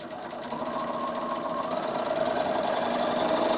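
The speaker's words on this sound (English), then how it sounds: "so I'll just sew from the center out." A sewing machine stitches a seam on a beach towel bag, running as a steady close mechanical whir with a fast even needle rhythm that climbs slightly in pitch as it speeds up.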